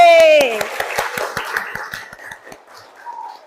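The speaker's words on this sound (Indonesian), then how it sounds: "Oke, tepuk tangan untuk kelas 8B." Students of class 8B clap in a classroom at the start of a science lesson, a run of distinct, fairly close claps that slows and fades, with a voice over the opening.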